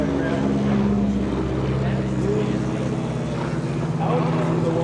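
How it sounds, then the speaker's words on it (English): Grumman Albatross amphibian warbird passing overhead at an airshow, a steady loud propeller-engine drone with a low harmonic hum holding throughout, with speech faintly mixed in. "As the Albatross passes overhead, typical of solid aircraft, as well as that type of Grumman aircraft."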